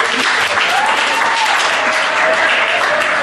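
A school crowd at a Voinjama Free Pentecostal Mission High School versus Foya Central High School event claps for the team going to Monrovia, loud, dense and continuous applause with no pauses.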